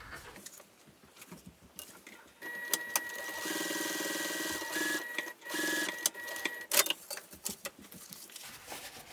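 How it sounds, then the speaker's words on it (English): A sewing machine topstitches across a folded fabric edge on a mini tote bag, running as a loud, steady whir for several seconds, with quieter handling clicks before and after and no voices. "I'm just going to top stitch across that folded edge."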